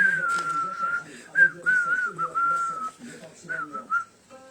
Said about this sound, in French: je siffle même